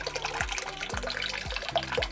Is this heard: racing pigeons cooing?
no